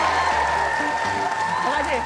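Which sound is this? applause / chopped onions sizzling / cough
applause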